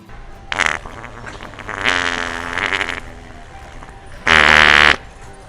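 A fart toy gives off three blurting, buzzy bursts, short then longer, the last one loudest and held about half a second, close and clear with no talking over it.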